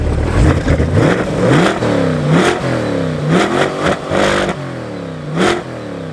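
A Chevrolet C8 Corvette engine revs outside the car through its exhaust, giving several loud, rising and falling throttle blips in quick succession with no talking.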